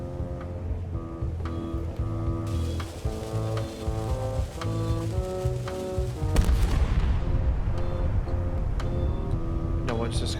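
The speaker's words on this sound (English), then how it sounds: "Ready for cannon firing." A cannon booms in the video game Return to Monkey Island: one loud, broad blast bursts out over steady melodic game music and keeps rumbling beneath it.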